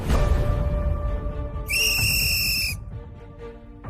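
A power whistle blown once during a celebrity cooking competition, a loud shrill tone lasting about a second amid busy kitchen background noise.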